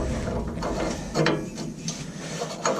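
Socket ratchet wrench turning an O2 sensor, heard as soft, close ratcheting clicks and scraping under a steady background hum.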